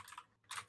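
Computer keyboard typing comes in two quick bursts of soft, close keystrokes separated by a brief pause.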